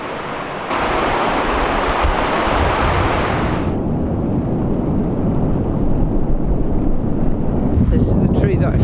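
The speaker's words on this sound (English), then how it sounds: "I wouldn't normally be able to hear the river from here." A high, swollen river rushing nearby, a loud continuous roar of turbulent water with heavy wind buffeting on the microphone, steady throughout.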